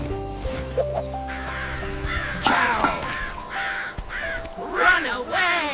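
Crows caw in a series of harsh, repeated calls amid a busy farm scene, several loud caws in the second half, mixed with other clatter and tonal sounds.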